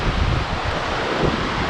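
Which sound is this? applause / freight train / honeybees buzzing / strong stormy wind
strong stormy wind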